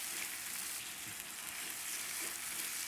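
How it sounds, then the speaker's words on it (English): Chicken thighs sizzle steadily in a hot pan while a utensil stirs and scrapes across the bottom, a dense continuous fry with soft scraping strokes up close and no voices. "what's important here is that we stir, because you really want to get up all the flavor."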